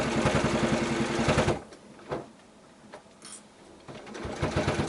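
A sewing machine stitches a quilted zippered pouch in a fast, close, rattling run that stops abruptly, followed by a few faint clicks and a quieter restart near the end.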